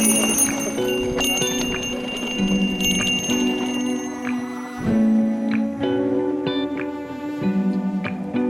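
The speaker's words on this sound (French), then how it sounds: "En activant sa sonnette avec interrupteur, les autres usagers se préparent à rencontrer quelqu'un." A mountain biker's switch-operated bicycle bell rings out on a trail shared with horse riders, a series of bright, clear metallic dings repeated at irregular intervals, each ring lingering briefly before fading.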